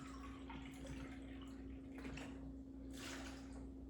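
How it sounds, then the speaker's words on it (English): Coconut water poured into a blender with dates, bananas and frozen mango for a smoothie, a faint steady trickling splash with a low hum underneath, no talk. "Now I'm gonna do 3 cups of coconut water here."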